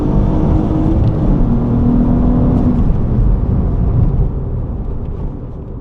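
A J35 V6-swapped Acura TSX (CL9) races down a track, its engine a steady loud rumbling drone heard from inside the car, easing off slightly toward the end.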